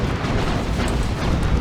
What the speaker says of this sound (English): So here come double auto cannons.